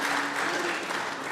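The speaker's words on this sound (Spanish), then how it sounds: "aquí en el Senado muchos aplaudieron" Applause in the US Senate chamber following the final vote announcement on a human infrastructure plan, a brief, dense spread of many hands clapping at steady moderate level.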